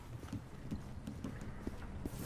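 Horse galloping in a video game, a fast rhythmic clip-clop of hooves under a wash of game noise, fairly faint and continuous.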